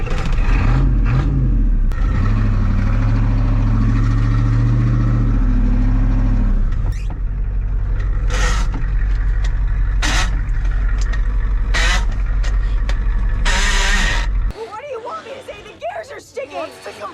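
The diesel engine of a Ford 7.3 IDI flatbed truck runs at a steady, deep idle close by, with talk over it, before cutting off near the end.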